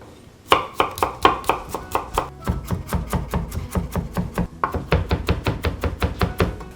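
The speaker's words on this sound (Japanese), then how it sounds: "続いて、ニンニクもみじん切りしていきます。" A knife mincing garlic on a cutting board makes rapid, evenly spaced chops, loud and close. The chopping runs in quick bursts with brief pauses between them.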